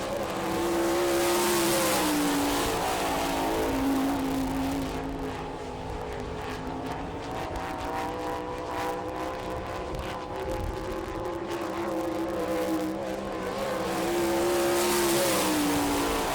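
Sprint cars racing around a dirt track at an All Star Circuit of Champions night in Rossburg, Ohio, engines roaring loudly as they pass, fading to a distant drone, then swelling again on the next pass.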